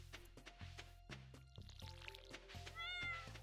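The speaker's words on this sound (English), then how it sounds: "Gotta fill up the cat's bowl." A cat in a farming video game meows several times as its bowl is filled, short distinct cries spaced across the clip alongside soft pouring and clinking of food, quiet overall.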